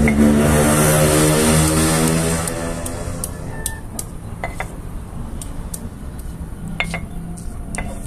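An electric grinder whirs loudly for a couple of seconds while blending nutmeg, cloves, garlic and ginger into a spice paste, then cuts out, leaving scattered light clinks of kitchenware.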